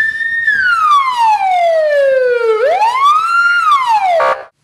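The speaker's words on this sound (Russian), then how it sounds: "Звук сирены для уха человека малоприятный." A police car's siren wails close and loud, its pitch sweeping slowly down, then rising and falling again in a long electronic cycle before cutting off abruptly.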